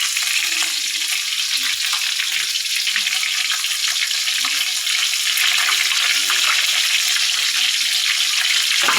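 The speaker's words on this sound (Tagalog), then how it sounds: "Ayan, piniprito ko. Ulo ng salmon" A salmon head fries in a pan, giving a steady, close sizzle and crackle with faint clinks of stirring. No voices are heard.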